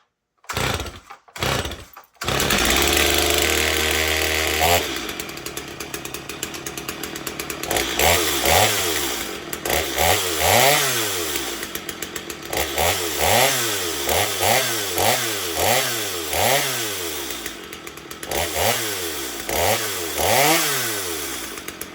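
A Stihl MS250 chainsaw with a 20-inch bar starts up and runs close by, idling rough then revving in repeated rising and falling bursts, loud throughout with no talk.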